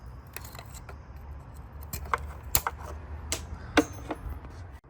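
On a Peugeot 307, a flat screwdriver pries at the metal clip on an engine connector, producing a run of small close clicks, taps and sharp metallic pings over a quiet low hum.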